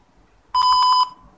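An Arduino speaker tone played in the Tinkercad simulator: one short electronic beep, about half a second long, with a slight warble, clean and alone against near silence.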